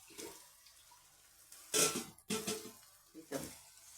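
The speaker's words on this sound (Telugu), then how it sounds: "వాటర్ వేస్తున్నాను." Water poured into a cooking pot while a dish is being made, giving a few short splashing bursts with brief pauses between, close and fairly quiet.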